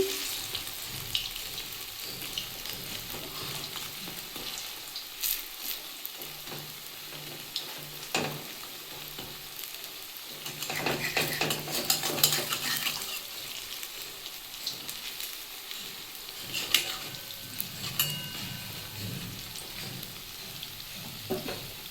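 Vegetarian cabbage fritters fry in hot oil in a pan with a steady, crackling sizzle. Occasional louder bursts and clinks come from turning and stirring, and the sound carries on for over twenty seconds without voices.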